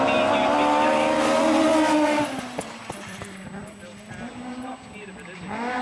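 A rally car in the 2013 Otago Classic Rally drives loudly toward the stage finish line, its engine note rising and shifting before fading to a quieter idle, while a commentator talks over it.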